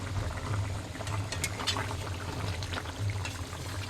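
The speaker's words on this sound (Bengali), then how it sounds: "এই ঝোল একদম ফুটে গেছে ঝোলের আওয়াজটা তোমরা একটু শোনো" Rohu fish curry with green jackfruit and potatoes bubbling at a boil in a pot, a steady low burbling with scattered small pops, close and moderately quiet, with no talking.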